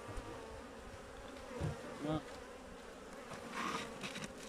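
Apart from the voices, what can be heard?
honey bees buzzing at hive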